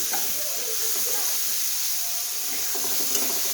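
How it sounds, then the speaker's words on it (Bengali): Chopped onion frying in oil in a pan for a Bengali cauliflower curry: a continuous loud hiss and sizzle, close up, with faint stirring scrapes and a soft voice briefly underneath. "পেঁয়াজটা একদমই হালকা ভেজে নেব।"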